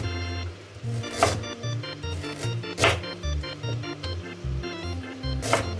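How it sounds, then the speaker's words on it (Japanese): A knife taps repeatedly on a cutting board while julienning ginger, a steady run of close chopping strokes with a few sharper hits mixed in. "こちらはですね、千切りにしていきたいと思います。"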